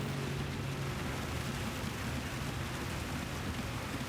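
Heavy rain in the racing game Gran Turismo 7, a dense steady hiss of downpour holding at an even level throughout, with a low rumble of engine or track noise underneath.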